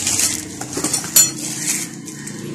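Steel dessert spoons of fourteen-gauge cutlery clink and rattle as they are handled at a wholesale cutlery market in Wazirabad, with light metallic chinks and one sharper clatter near the middle.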